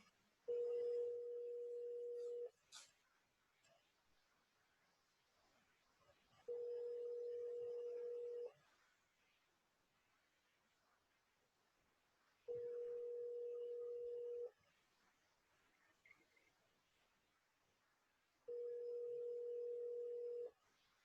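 A telephone line gives a steady ringback-style tone while a call is being placed, four even two-second beeps spaced about four seconds apart over faint background noise.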